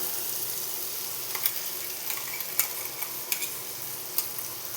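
Potato pieces with ginger paste stirred in a pan, a steady soft sizzle of frying with a few sharp scrapes and clinks of a spatula at intervals, close by and with no talking.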